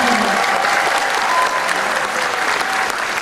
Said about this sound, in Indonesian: Boleh kita berikan tepuk tangan yang meriah untuk ke-11 kandidat.